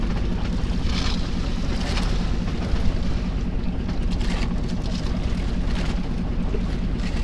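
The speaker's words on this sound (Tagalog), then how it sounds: "Habagat ang hangin dito sa Pacific." Steady, heavy southwest monsoon wind roaring across the open Pacific during tuna fishing, with the wash of waves and boat hull noise underneath, unbroken throughout.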